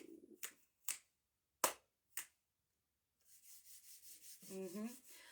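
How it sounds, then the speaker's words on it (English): Four sharp hand claps and snaps spaced slowly apart, close and crisp, followed by a soft rubbing hiss and a brief hum. "I'm going to keep the clap snaps nice and slow"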